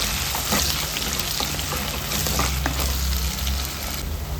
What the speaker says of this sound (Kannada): ಈರುಳ್ಳಿ ಚೆಂದ ಫ್ರೈ ಆಗಿದೆ.